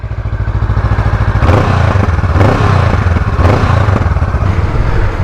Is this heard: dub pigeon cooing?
no